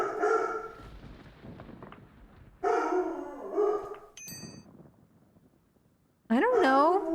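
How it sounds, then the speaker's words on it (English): A dog in the Nancy Drew: Legend of the Crystal Skull video game barks in a few short bursts, with a louder yelp near the end, while a person talks over and between the barks. "I don't even know what he's barking at now."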